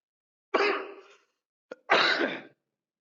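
Two harsh, close coughs separated by a short catch of breath, loud against otherwise silent surroundings.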